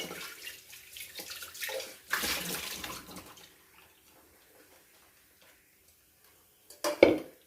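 Tap water runs into a container as food is dropped in for soaking, a splashy rush that fades to near quiet before a brief clatter at the end.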